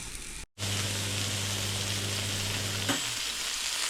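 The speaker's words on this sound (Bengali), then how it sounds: "মাছটাকে হলুদ মরিচ ধনে জিরে একটু লবণ অয়েল দিয়ে একটু সময় ম্যারিনেট করে রেখেছিলাম আর এখানে তাকে ভেজে নিচ্ছি" Fish marinated with turmeric, chili, coriander, cumin and salt fries in hot oil, a loud, dense, continuous sizzle that cuts out briefly and then roars on steadily without pause.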